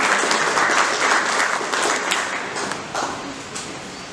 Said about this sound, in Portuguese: Por favor, salve de palmas.